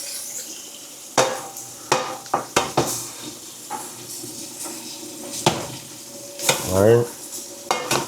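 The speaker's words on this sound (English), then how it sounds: "I'm going to make my spinach. Get the spinach popping." Spinach sizzling in a pot during a lean ground turkey meal prep, a soft frying hiss broken by clinks and stirring knocks from utensils, with a brief spoken word early on.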